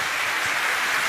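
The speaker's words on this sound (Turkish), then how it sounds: "Bir alkış daha lütfen Bahadır Yenişehirlioğlu için" Applause for Bahadır Yenişehirlioğlu at a live evening city event, a steady wash of clapping from an audience, moderately loud and continuous with no voices over it.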